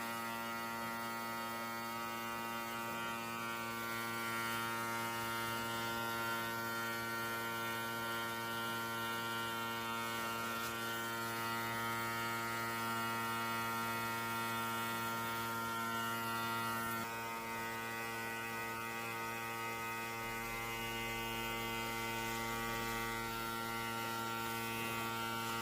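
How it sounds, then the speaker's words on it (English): A cake-decorating airbrush runs as a steady electric compressor drone with a strong mains-like hum, continuous and close for the whole stretch while cream-covered cake is sprayed, with no talking over it. "Now I'm using my airbrush to spray on the part that we drew lines."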